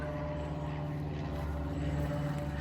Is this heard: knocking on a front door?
no